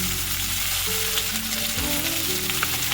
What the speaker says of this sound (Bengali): এবার তেল গরম হয়ে গেছে, এবার আলু আর বাঁধাকপিটা আমি এই তেলের মধ্যে দিয়ে দিচ্ছি